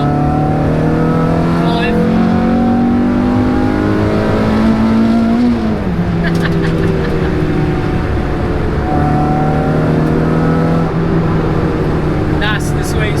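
Renault Clio 182 hot hatch accelerating flat out in third gear from around 3,000 RPM, loud rising engine note that dips with a shift then climbs again, with brief speech over it.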